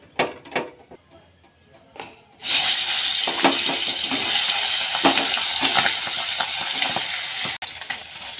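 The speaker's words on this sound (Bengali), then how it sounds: "এবার মাছটা ভাজতে দেব। ভেজে নেব অল্প করে।" Turmeric- and salt-rubbed hilsa fish pieces dropped into hot oil, a few faint clicks followed by a sudden loud, dense sizzle that stays steady and close for several seconds, with no talking.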